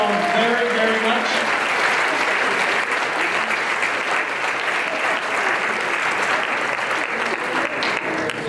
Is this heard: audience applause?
yes